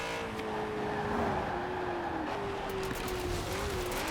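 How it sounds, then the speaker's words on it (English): A BMW M3 GTR with a V8 engine in Forza Horizon 4 drones loudly at steady revs, one continuous engine note that dips slightly and recovers. "That engine is so overpowering in noise."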